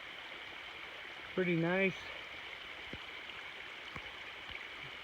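Mountain spring water flowing beside a trail, a faint, steady, soft rush throughout, with a brief spoken remark early on and a few light knocks.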